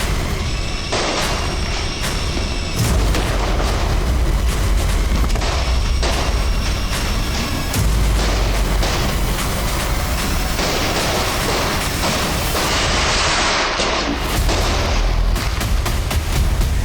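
Dense barrage of Diwali firecrackers with gunshots among them: sharp loud bangs and booms crackle continuously over a roaring background, with no one speaking.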